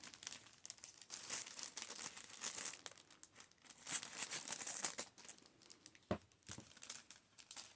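Plastic wrap crinkles and crackles in close, irregular bursts as it is handled for wrapping soap, quiet overall with a few sharper rustles near the end.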